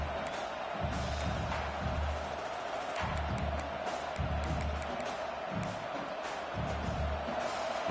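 Stadium crowd in a college football video game, LSU vs Florida, a continuous roar of cheering with rhythmic low thumps pulsing through it, filling the background.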